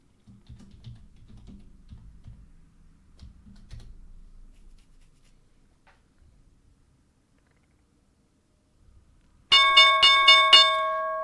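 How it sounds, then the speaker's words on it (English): Opening bell for a live trading day rings out suddenly after quiet keyboard typing, a loud bright metallic ringing that repeats in quick strokes and sustains to the end. "There's the bell."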